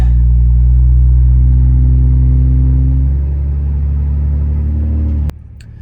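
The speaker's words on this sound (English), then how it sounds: "Right now it's towing okay. You can kind of hear it under load right now." A diesel pickup's swapped 6.7 Cummins engine with a GT42 turbo drones steadily while towing about 15,000 lbs, heard from inside the cab as a loud, deep rumble that eases slightly partway through.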